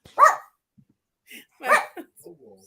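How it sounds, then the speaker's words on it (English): A house dog barks indoors, two loud close barks about a second and a half apart followed by softer yips and breathing. "That's the dog barking at my husband."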